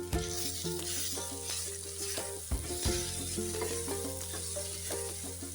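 Amla chutney is stirred in a pan with ghee before jaggery goes in, a quiet continuous sizzle under a steady background hum, with one or two faint knocks of the spoon.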